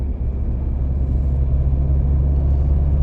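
A 2012 Ford Fiesta 1.4 TDCi diesel with 70 PS cruises in fourth gear, its engine a steady low rumble and droning hum heard from inside the cabin, constant and fairly loud with no talk.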